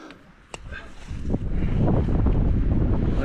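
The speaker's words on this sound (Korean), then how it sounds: "그리고 지금 바람이 엄청나게 불고 있습니다." Strong, steady wind roaring across a mountain trekking trail in Nepal, building from a moderate rush into a loud, continuous buffeting against the microphone, with a brief knock near the start.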